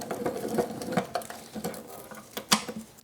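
A speed wrench spins out oil pan bolts on a Chevy 350 small-block engine, giving a run of close, uneven ratcheting clicks and metallic rattles with several sharper snaps.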